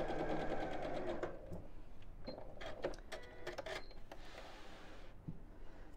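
A domestic sewing machine stitches through felt for an Easter egg decoration, a quiet rhythmic whirring and clatter in short runs with pauses between, close and alone without talk.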